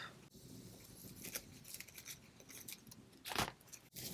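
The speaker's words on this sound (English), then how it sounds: "So I'm going to cut it off." Scissors snip through a paper napkin in a quiet indoor craft setting, a few short crisp cuts close by with a louder snip near the end.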